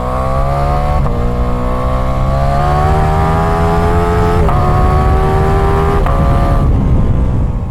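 A 2023 Ducati Diavel V4 motorcycle engine revs up hard through several gear shifts, its rising drone climbing steadily and dropping briefly at each change, loud and close with no talk.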